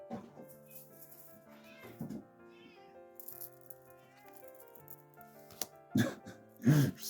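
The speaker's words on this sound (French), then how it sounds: "Je sais pas pourquoi il miaule comme ça." A cat meows repeatedly and insistently indoors, the calls starting faint and growing louder toward the end, over soft background rattling and music.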